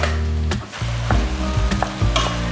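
Minced meat for moussaka frying over medium heat and being stirred and broken up in a pan: a loud close sizzle with repeated spatula scrapes and knocks against the pan, no speech.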